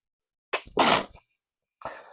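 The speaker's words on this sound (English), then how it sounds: "My first on-camera sneezing fit" A person sneezes in a quick fit: two sharp, close sneezes in rapid succession, then a third after a short pause, in an otherwise quiet room.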